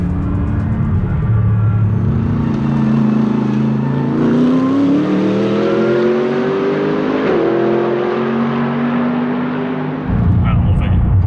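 A Mercedes-AMG GT R engine pulls hard, its loud, close exhaust note climbing steadily in pitch, with a brief dip and shift near the end before the growl resumes.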